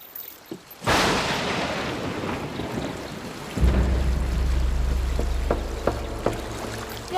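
Thunder cracks suddenly and rolls on as a long broad rumble, then a deep low roar of wind and rain sets in before a storm, with scattered sharp patters near the end.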